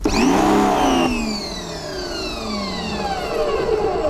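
A Parkside PHD 170 B2 pressure washer starts up with a loud electric motor whine and pump drone, its pitch sliding downward as it settles into a steady running tone, close and alone.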